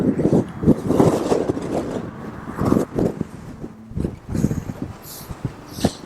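Strong wind from a sandstorm in Iran buffets the microphone of a touring cyclist in heavy, uneven gusts, with muffled rumbling throughout and brief bits of talk mixed in.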